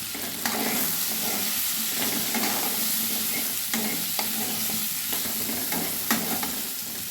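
Grated coconut frying and being stirred in a pan of pumpkin, a loud, dense, continuous sizzle with irregular scraping strokes of a spatula throughout and no voices.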